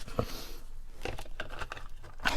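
A deck of cards being shuffled, with a few brief papery riffling and crinkling bursts over a quiet, soft background, close by and fairly faint.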